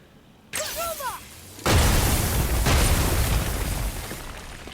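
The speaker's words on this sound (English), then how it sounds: "It makes me a bit nervous how close Atreus stands next to the explosion" An explosion in the action game God of War: a short creaking, whistling rise, then a loud booming blast that rumbles on and slowly fades, with no talking.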